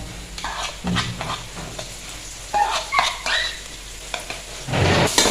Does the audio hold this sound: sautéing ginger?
yes